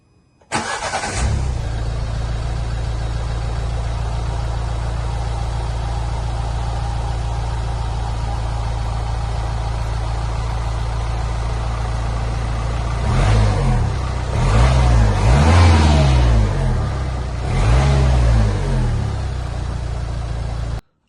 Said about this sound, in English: it's a loud diesel